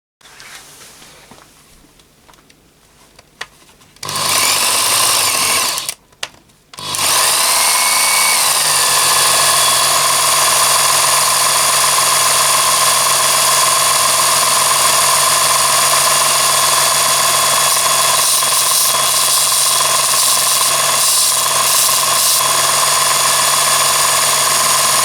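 A Ken Onion electric variable speed knife and tool sharpener switches on, cuts out briefly, then restarts and runs in a loud, steady whine with a tonal hum for about twenty seconds, with no talk.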